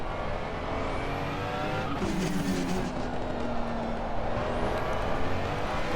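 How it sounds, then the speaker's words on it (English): A race car engine drones continuously in a racing game at the Paul Ricard circuit, revving up and easing off through gear changes with faint tire squeal, loud and steady throughout with no talking. "let the engine notes start to die down before you choose the next gear"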